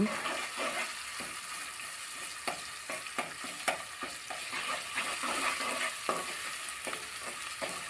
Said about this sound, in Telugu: అల్లం పేస్ట్ మంచిగా పచ్చి వాసన పోయేంత వరకు మంచిగా ఫ్రై చేయాలి